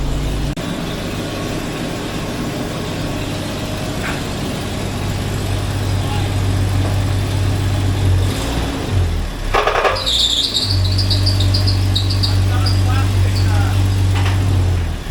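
A Jeep ZJ engine with a manual swap turns over and settles into a steady low running drone. Someone talks over it.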